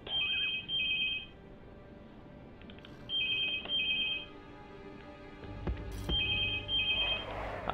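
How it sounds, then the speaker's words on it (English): A telephone rings in a room, three paired electronic trills spaced a few seconds apart, moderately loud, with a low rumble and faint background noise in between. "the phone's just ringing"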